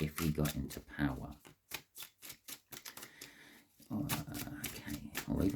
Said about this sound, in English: I'll just keep shuffling until I feel we got the right shuffle